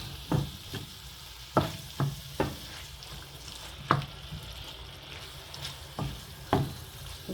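Chopped small tomatoes sautéing in a pan for tomato rice, a low sizzle beneath repeated spoon scrapes and knocks against the pan, about one each second, near and distinct.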